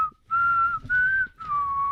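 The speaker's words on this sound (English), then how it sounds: "Your whistling's getting better." Someone whistles a short melody in three sustained, slightly wavering notes separated by brief gaps, close and clear, with no talking.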